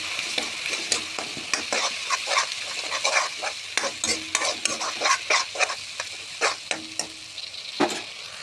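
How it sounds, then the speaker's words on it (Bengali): Tomato paste being stirred with fish in a frying pan for a spicy Bengali puti fish and potato curry, giving a steady sizzle broken by repeated scraping strokes of the spoon, close and fairly loud with no talk. "তারপর দিয়ে দেবো টমেটো বাটা, দিয়ে আস্তে আস্তে নাড়তে থাকবো"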